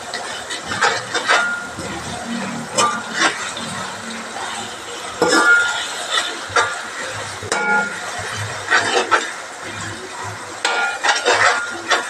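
Spoon stirring a ground paste of ginger, green chili and curry leaves into a chicken curry, giving scraping clinks against the pan over a low sizzle at close range.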